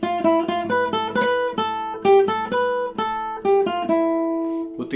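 A guitar plays a melodic motif: a flowing sequence of bright plucked notes with some longer held tones and a final ringing note, close and unaccompanied.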